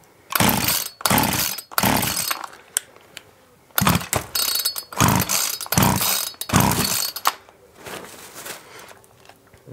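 Mac 441 chainsaw with its choke open, pull-started again and again: a series of loud rasping cord pulls with short gaps between them, the engine never catching.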